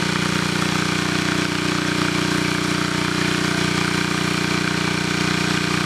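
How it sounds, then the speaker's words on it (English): Steady, unbroken idle of a generator engine, a loud close drone with an even low hum and no change in speed throughout. "the engine definitely runs stable"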